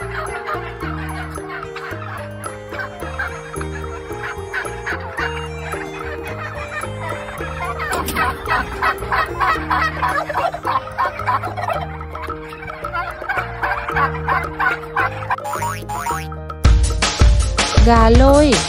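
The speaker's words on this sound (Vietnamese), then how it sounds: "Gà Tây." Turkey gobbling in rapid, rattling bursts over steady background children's music, with a voice naming the bird and a louder noisy burst at the end.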